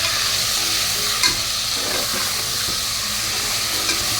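A curry is stirred in a frying pan, with a steady close sizzle and intermittent spatula scrapes and taps against the pan, fairly loud, and no voices.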